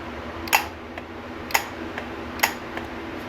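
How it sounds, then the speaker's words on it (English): A few sharp mechanical clicks from a Honda CR-V A/C compressor clutch engaging, close by, spaced about a second apart, with fainter ticks between them over a low steady hum. "that's this clutch pulling in"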